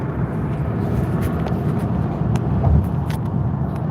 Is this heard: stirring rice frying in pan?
no